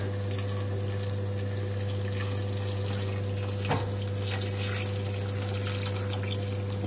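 Vegetable stock poured from a container into a soup pot for a winter vegetable soup, a continuous steady liquid splashing and gurgling that holds at even loudness throughout over a faint background hum.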